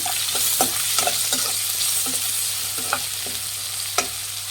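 Chopped onions frying and being stirred in a pan while preparing hotel-style shavige uppittu, a steady close sizzle broken by irregular scraping stir strokes, with no talk.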